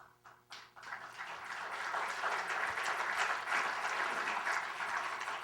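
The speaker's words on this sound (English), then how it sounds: "Thanks for the clap." Applause from a seated business audience at a corporate forum, building from a few scattered claps into steady, moderately loud clapping that holds for several seconds in a large room.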